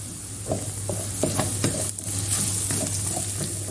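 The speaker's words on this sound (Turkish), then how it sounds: "Güzelce yeniden karıştırıyorum. Biberlerim, soğanlarım, salçam güzelce kavruldu." Peppers, onions and tomato paste sautéing with chili flakes and black pepper, stirred in a pan: a bright, loud sizzle with several clacks and scrapes of the utensil, close up and without talk.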